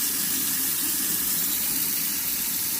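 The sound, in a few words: water running from a tap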